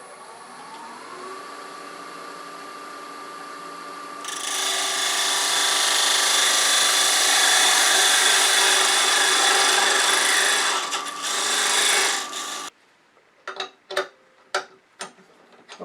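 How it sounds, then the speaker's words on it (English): Small shop-made parting tool undercutting a wooden lid spinning on a lathe, a loud sustained scraping rasp over the motor hum that stops abruptly, followed by several sharp taps. "I'm going to use this very small shop-made parting tool and see if I can just come in there and undercut this just a little bit"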